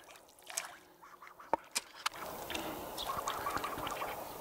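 A duck being fed outdoors gives a few short, scattered calls, partly masked by steady road noise in the background.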